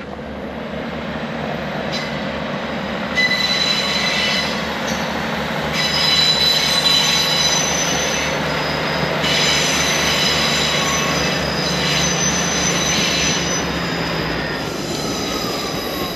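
A tram rolls through Manchester Piccadilly station with steady rumbling, wheel squeals and a high metallic whine, loud and close, with no voices.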